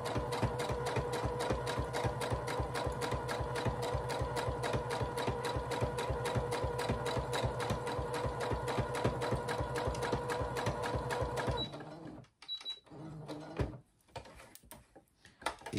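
A sewing machine stitches rapidly in an even, mechanical run of close, rhythmic needle strokes for about twelve seconds, then stops, followed by a few scattered clicks and handling noises as the fabric is adjusted.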